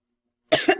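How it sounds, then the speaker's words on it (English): After half a second of silence, a single close, sharp cough breaks out, with a short second burst right after. "I did not mean to cough in your ear."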